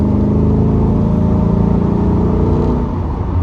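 A Chevrolet C8 Corvette engine drones loud and steady from inside the car after a paddle downshift to overtake, with a low, even rumble that eases off slightly at the end.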